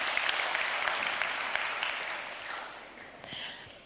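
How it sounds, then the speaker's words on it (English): An audience at a talk bursts into lively clapping that stays strong, then gradually thins and fades near the end. "round of applause for everyone."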